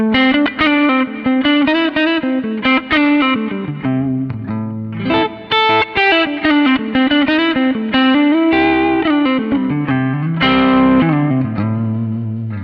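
Distorted electric guitar through an amp modeler with a 1x15 cabinet impulse response plays a riff of chugging chords and single notes, loud and close, with a saturated amp-like tone.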